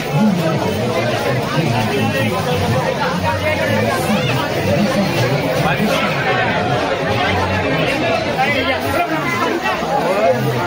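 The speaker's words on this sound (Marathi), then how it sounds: "खूप जास्त गर्दी आहे" Dense crowd chatter fills a busy parking area near Matheran, a steady hubbub of many overlapping voices held at an even, loud level throughout with no single speaker standing out.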